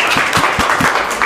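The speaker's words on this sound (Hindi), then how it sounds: "चलिए ताली बजा दीजिए इनके लिए।" A classroom group of students claps for a fellow student, a steady, fairly even patter of hand claps close by and moderately loud.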